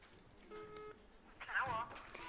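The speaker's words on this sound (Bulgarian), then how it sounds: "Сега набирам Амалипе." A telephone number is dialed, producing a few faint DTMF keypad tones, followed by a ringing tone, all heard under people speaking Bulgarian in a room.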